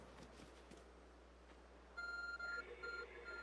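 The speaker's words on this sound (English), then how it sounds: "There's a glowing, beeping object over there" A beeping object in Pokemon Legends Arceus gives a run of bright electronic beeps in short pulses, fairly soft, after a quiet stretch of game ambience.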